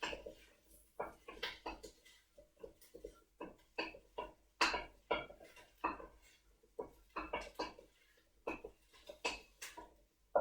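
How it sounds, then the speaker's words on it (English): Mushrooms being stirred in a pan, with a utensil tapping and scraping against the pan in an irregular series of close, light clicks and knocks, with no voices. "Let me just stir that around there for a bit."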